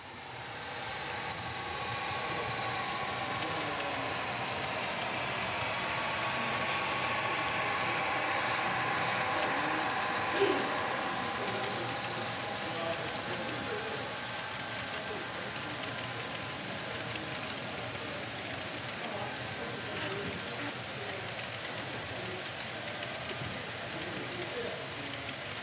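A model train runs continuously with a steady whirring, clattering rumble that holds at an even level throughout.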